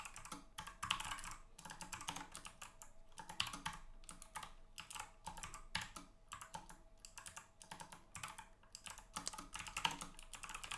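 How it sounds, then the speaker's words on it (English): Close-up computer keyboard typing while coding in C, irregular bursts of clicking keystrokes with short pauses, quiet and unaccompanied by speech. "I'm typing really slowly."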